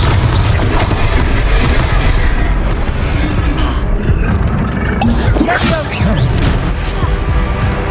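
Confringo blasting-spell explosions boom in Hogwarts Legacy, loud and continuous, dense rumbling blasts layered over game noise with a spoken voice mixed in.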